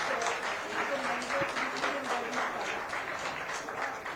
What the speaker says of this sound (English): a round of applause for our cartoon characters